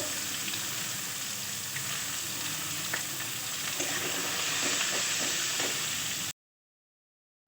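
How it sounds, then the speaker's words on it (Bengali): Potatoes sautéing with turmeric in a pan, a continuous soft sizzle with faint stirring scrapes, moderately quiet, ending abruptly in silence. "আলুগুলোকে দিয়ে ভালোভাবে কষিয়ে নেব সামান্য পরিমাণ হলুদ দিয়ে দেবো দিয়ে কষিয়ে নেব"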